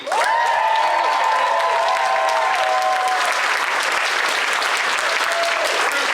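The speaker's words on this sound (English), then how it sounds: "please a round of applause for my friend Bruce Wayne." A large crowd at a DragonCon 2022 charity comedy show applauds loudly and steadily, with a sustained tone and some cheering mixed into the dense clapping.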